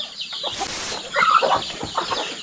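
Chickens and young chicks on a forest farm cluck close by in a short burst of overlapping calls, with no talking.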